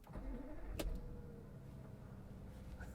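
A 2010 Audi Q7 6.0 TDI V12 diesel starting up, a short sharp crank followed by a low, steady idle hum, fairly quiet and with no talk.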